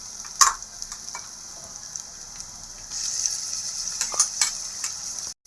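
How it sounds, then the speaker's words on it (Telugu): Ginger garlic paste frying with onion paste in a pan for fish curry, a steady soft sizzle with a few sharp clicks of stirring, close and alone. "అల్లం వెల్లుల్లి పేస్ట్ అయితే వేసిన తర్వాత బాగా కలుపుకోండి ఫ్రెండ్స్."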